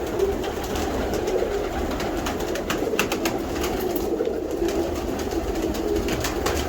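Lakha pigeons coo steadily in a low, continuous murmur that fills the whole stretch, close by and fairly loud with no talking.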